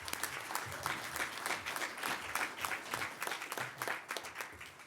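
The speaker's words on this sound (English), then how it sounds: "Everyone, a round of applause for Jacob Brand." An awards-ceremony audience applauds Jacob Brand, a dense, steady wash of many hands clapping at moderate distance with no talk over it.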